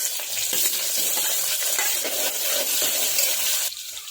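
Whole spices (bay leaf, dried red chillies, cinnamon leaf, star anise, cardamom) and long-sliced onion in hot oil, a loud, close, continuous hissing sizzle that eases off near the end, with no voices.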